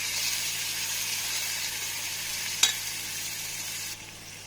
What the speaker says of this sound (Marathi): बारीक चिरलेला टोमॅटो टाकून आपण मिक्स करूया मिश्रण.